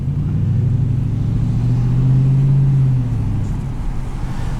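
A 2018 Dodge Challenger T/A Plus with an 8-speed automatic drones along from inside the car, its low engine note swelling gradually before easing back, steady and close with no talk.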